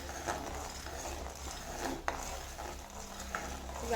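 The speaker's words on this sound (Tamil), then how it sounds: "இது வரைக்கும் நம்ம கிண்டிக்கிட்டே இருக்கணும் கொஞ்சம் ஒரு பதம் வர்ற மாதிரி கிண்டணும்" A thick palm jaggery syrup is stirred in a pot for nutritious flour laddus, with a low bubbling sizzle and a scraping spoon that knocks against the vessel now and then.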